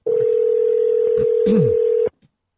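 A phone being dialled: a steady dial tone holds for about two seconds while brief keypad tones cut in, then it stops abruptly and a faint click follows.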